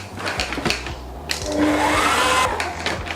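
An electric mixer whirs steadily through cake batter, a loud, close motor drone with brief clatters of the beaters against the bowl, rising in intensity midway, with no one talking.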